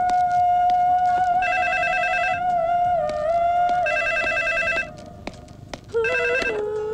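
A telephone rings in repeated bursts, loud and close, with a steady tone underneath and a brief pause before the final ring.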